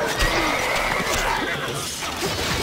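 A horse neighs loudly in the Stronghold Crusader strategy game, a single whinny over a busy backdrop of battle noise and hoofbeats.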